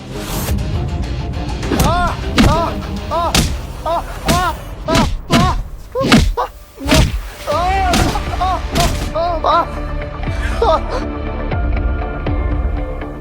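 Repeated heavy punches and thuds land in a staged fight, sharp loud impacts in quick irregular bursts with shouting and raised voices between them.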